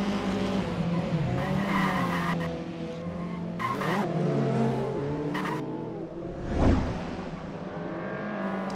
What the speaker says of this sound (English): Lap 10 saw Roshek spinning after collisions from the front and behind going into turn 7.